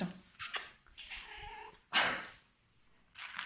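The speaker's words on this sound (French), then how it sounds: "Regardez comment elle miaule, écoutez." A pet cat named Perle meows in several short, insistent calls with brief pauses between them, close and fairly quiet indoors.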